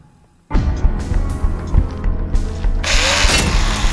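A saw is used in the video game Buckshot Roulette, starting abruptly with a loud mechanical whir and clattering, ratchety bursts that build into a harsher, brighter grinding toward the end, with no talk.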